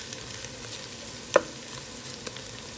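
Jordanian mjadra hamra fries in a pan with a steady, soft sizzle as it is flipped and spread across the bottom, broken by one sharp utensil knock midway and a faint tap later.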